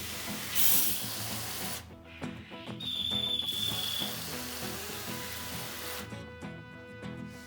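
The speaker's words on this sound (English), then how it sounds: "use a spray bottle to lightly mist the towel until it's evenly moist" A spray bottle mists a dish towel to dampen it for sprouting ginger, giving a few short, soft hissing bursts close by, with no one speaking.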